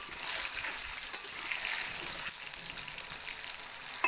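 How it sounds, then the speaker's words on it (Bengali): Potatoes fry lightly in a pan, with a steady, close sizzle and soft crackling throughout and a few faint clicks, and no talking. "এগুলো হালকা একটু ভেজে নেব আলুগুলোকে।"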